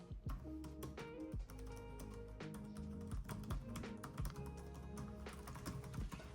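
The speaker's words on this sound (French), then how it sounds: "Je vous propose d'écouter le clavier." Typing on an Asus VivoBook S16 OLED laptop keyboard, a quiet, steady run of close clicky keystrokes with irregular rhythm and no talking.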